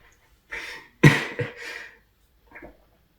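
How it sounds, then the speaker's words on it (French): A couple of sharp coughs up close into a face mask, with a softer breathy cough trailing off after a short pause. "Quand j'ai toussé là, ça a fait bam et contre le masque"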